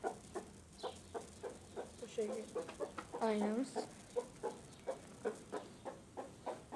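A rooster fighting its reflection in a mirror clucks in a steady series of short, close calls with a drawn-out squawk midway, while a person says a few words.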